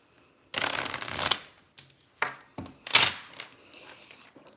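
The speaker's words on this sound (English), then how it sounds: "Let me make sure I shuffle these two." Close, crisp tarot card shuffling: one longer riffle followed by a few shorter bursts and taps, with quiet gaps between.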